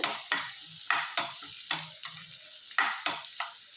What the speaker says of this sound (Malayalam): സവോള ഞാൻ ചെറുതാക്കി അരിഞ്ഞിട്ട് അത് വഴറ്റിയെടുക്കുകയാണ് ഇതിൽ